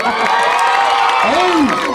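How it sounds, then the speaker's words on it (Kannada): A large outdoor festival crowd at the Shri Allamaprabhu Jatre in Halingali roars and cheers with scattered clapping, a dense continuous wash of voices holding steady and loud throughout. "ಎಲ್ಲಿ ಒಂದ್ಸಲ ಬರ್ಬೇಕು ಜೋರಾದ ಚಪ್ಪಾಳೆ"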